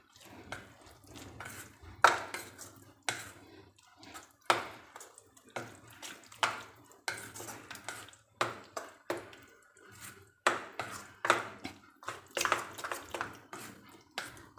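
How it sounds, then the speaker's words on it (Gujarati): Appam batter is stirred and mixed in a bowl with a spoon, producing a rhythmic series of soft scrapes and light clinks that repeat roughly every second, close by and alone. "હવે બધા બેટરને આ રીતે હલાવીને મિક્સ કરી લઈએ."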